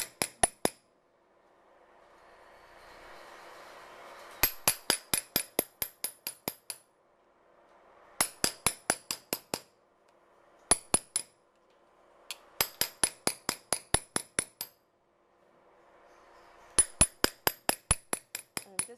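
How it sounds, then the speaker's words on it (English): A hammer strikes a tool pressed against sheet metal, gradually shaping it in bursts of rapid, evenly spaced metallic blows with a bright ring, separated by pauses filled with soft scraping as the tool moves across the surface. "I'm just moving the tool gradually over the metal while hammering at the top."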